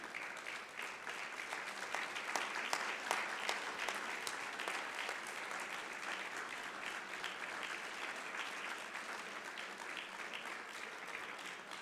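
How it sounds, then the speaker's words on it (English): A standing audience applauds students at a school writing recognition ceremony, with dense, steady clapping that fills the whole stretch at an even level, no voices rising above it. "let's applaud those students who participated in this program"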